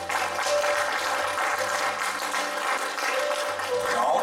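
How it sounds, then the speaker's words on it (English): A church congregation claps hands in praise during a service, a dense, sustained round of applause with a faint tonal hum beneath it, even in loudness throughout and without clear speech. "Give the Lord a hand clap of praise"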